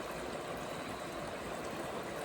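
A sandy river flows steadily past, a constant close rushing and burbling of moving water with no breaks or other sounds.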